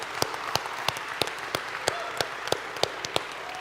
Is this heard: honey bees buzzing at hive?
no